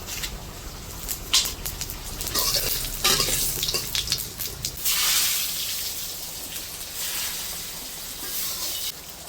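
Cumin seeds sizzling loudly in hot mustard oil in a pan while fish curry with yardlong beans and potato is being cooked, a steady crackling hiss with bursts of spatter and stirring, no voices over it.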